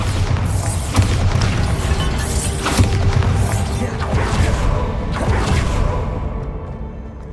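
The Bombarda blasting spell in Hogwarts Legacy sets off a run of heavy booming explosions with crashes and whooshes, loud and close, repeating across the clip before trailing off at the end.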